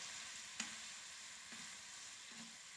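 Chicken 65 frying in a pan produces a faint, steady sizzle, with three brief knocks as the pieces are stirred.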